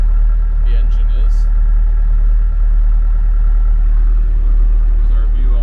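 A skid steer engine idles steadily while warming up on a snowy day, a constant low rumble close by with a few faint higher clicks over it.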